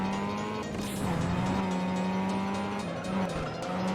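A Mazda RX-7 race car in a racing video game howls at high revs, its engine tone holding steady while tires squeal and skid throughout, loud and close.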